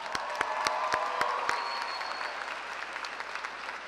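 Audience at a high school graduation ceremony applauds steadily, a dense wash of clapping with a few sharp claps standing out near the start, then slowly thinning out; no talking.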